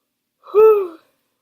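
A single short, breathy yawn with a voiced, falling tone, isolated in silence.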